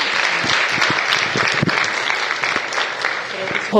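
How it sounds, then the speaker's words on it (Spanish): A church congregation breaks into strong, steady applause, a dense wash of clapping held at an even level throughout. "Con un fuerte aplauso, por bendecirnos con eso."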